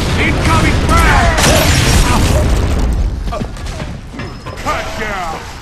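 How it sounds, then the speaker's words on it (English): A frag grenade blasts in Gears of War: Judgment multiplayer on the Streets map, a loud booming burst with rumbling debris. Shouted voices and combat noise follow as the sound gradually settles. "Incoming frag!"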